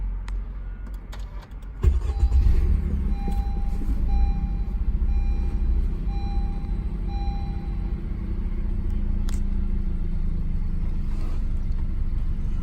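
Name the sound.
car engine first startup after intake coupler install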